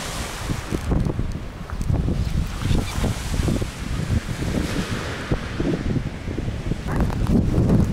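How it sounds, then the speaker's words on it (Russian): Strong wind in Anapa, Russia, buffets the microphone in heavy, low rumbling gusts that roar continuously with only brief lulls. "Ветер безумный тут."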